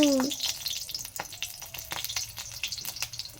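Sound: green chillies spluttering in hot oil in a wok

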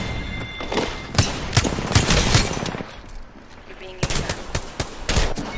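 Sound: gunfire from a G7 Scout rifle in Apex Legends (video game)

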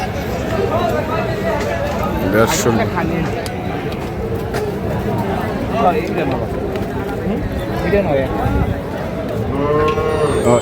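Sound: cattle mooing at a cattle market

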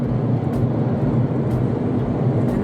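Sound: helicopter flying over closed road

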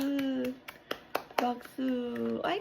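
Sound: hand clapping

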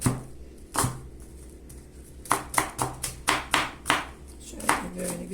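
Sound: finely chopping ingredients for kısır

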